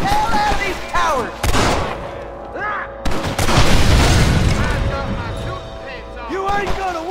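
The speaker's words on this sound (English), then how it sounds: "Let's shoot the hell out of these towers." Loud gunfire from a Winchester rifle blasting at towers in Red Dead Redemption, sharp cracks and booming impacts spread across the scene, with voices talking in between.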